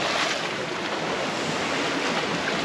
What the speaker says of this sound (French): On a récupéré une belle houle et puis un petit peu de vague de vent là, qui déferle, un peu croisé encore.